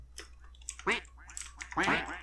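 Duck quacks in the video game Minecraft: two loud, raspy quacks about a second apart, with a faint voice and game sounds in the gaps between them.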